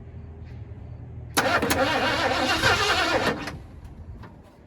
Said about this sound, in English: Will it fire if I just keep turning it over?